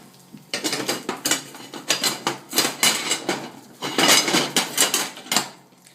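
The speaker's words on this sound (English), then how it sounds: "now I will put the plate over here" Dishes and cutlery clatter in a kitchen while poaching eggs, with a plate set down on the counter among a run of close, sharp clinks and knocks of crockery, no talking.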